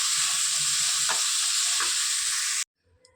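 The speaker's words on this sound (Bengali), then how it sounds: "চলুন তাহলে দুধ ভাজাটাকে ভেজে নিই" Food fries in a pan with a loud, bright, steady sizzle and a couple of stirring scrapes, then cuts off abruptly into near silence.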